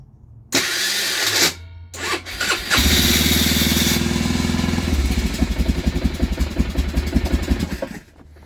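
A small engine cranks with a starter, sputters, then catches off choke and settles into a loud, steady, slightly uneven idle with a rapid pulsing rhythm, close to the listener.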